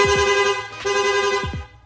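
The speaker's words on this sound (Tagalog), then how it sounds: "Tapos ito naman po yung loud horn. Rapid horn." A loud aftermarket rapid horn on a Honda Click scooter blares in a sustained, bright, buzzy tone, pulsing briefly near the middle, close and alone.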